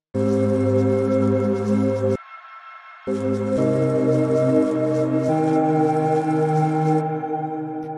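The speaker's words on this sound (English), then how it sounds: "I made a nice little kind of like pad that just sort of hangs over this using the battle bus" A sustained synth pad chord made from the Fortnite battle bus sound hums steadily, briefly cutting to a thinner tone before returning, with shifting notes and a bright airy layer on top.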